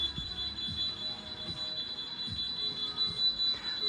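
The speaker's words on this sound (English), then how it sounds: "There we go, we've got an alarm." A smoke detector fire alarm in a new house sounds a steady high-pitched electronic tone that runs continuously throughout, with faint low rumbling in the room beneath it.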